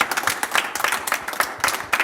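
Audience applauding the twelve best young entrepreneurs of Burkina Faso at a competition elimination show, a brief burst of lively, uneven clapping from a crowd, close and moderately loud.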